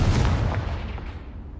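A Confringo blasting spell explodes in a Harry Potter video game: one loud, close boom with a sharp onset that rolls off into a fading rumble and crackle.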